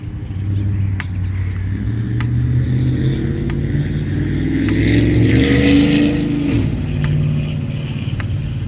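A large truck engine idles and rumbles steadily at close range outside an abandoned Hardee's, swelling briefly louder midway, with faint clicks over the drone.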